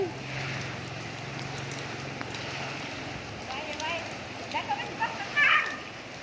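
Rain falls steadily during a storm, a dense hiss of drops filling the scene, with a few louder splashes and knocks near the end and a voice faintly underneath.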